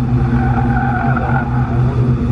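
An Audi S3 at an autocross event, its engine roaring in a loud, steady rumble with a sustained higher-pitched squeal riding over it, close and continuous with no talk.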